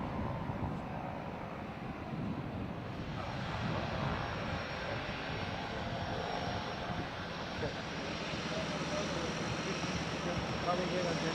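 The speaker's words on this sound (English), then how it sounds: "One coming out for a takeoff." A seaplane's propeller engine drones steadily as it takes off from water, a broad, rising roar heard from a distance with wind buffeting the microphone, while people talk faintly nearby.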